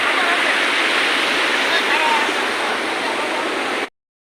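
Fast, cold river water rushes and splashes in a steady broadband roar, loud and close at a bathing spot, then cuts off abruptly.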